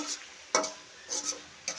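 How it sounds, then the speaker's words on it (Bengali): A spatula stirs mola fish with spring onion greens and coriander frying in a pan, giving three soft scraping strokes over a faint, low sizzle, close by. "এখন একটু ভালো করে মিশিয়ে একটু ভাজা ভাজা করে নেব"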